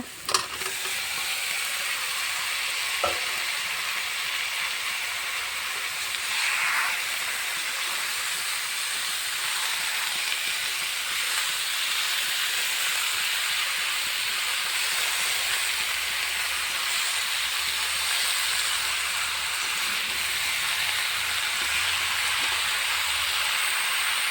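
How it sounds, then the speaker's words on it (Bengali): Jackfruit pieces hit a hot pan and sizzle through a jackfruit curry, with a loud continuous frying hiss, a few clatters of stirring near the start, and no speech. "এখন দিয়ে দিই আমি কাঠলটা।"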